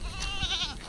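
A goat bleats once in a wavering, quavering cry, close and fairly loud, on a hot day at a farm with cattle nearby.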